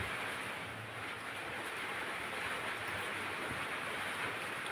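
Steady rain falls continuously outdoors at a home where laundry is being packed into sacks, a dense even hiss with no pauses and no talking.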